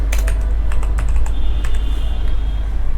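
Quick bursts of keystrokes on a computer keyboard as a Firebase deploy command is typed, close and crisp clicks clustered early then trailing off into a faint hum.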